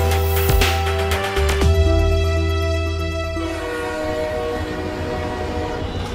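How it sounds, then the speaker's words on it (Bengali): A train rushes past a still green pond, its horn sounding loudly at the start, followed by a steady, close rumble of wheels and carriages that gradually fades. "দিঘির টলমলে জলের সবুজ ব্যাকড্রপে নীরবতা ভেঙে ছুটে আসে ট্রেন।"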